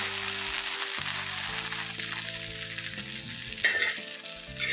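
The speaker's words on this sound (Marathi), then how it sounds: "आता भेंडी थोडीशी वाफवलेली आहे ना तर आपण परत एकदा हलवून देऊया" Okra frying on a flat iron tawa gets stirred, a dense, close sizzle running throughout with scraping spatula strokes at a loose rhythm and a sharper burst of hiss near the end; no voices.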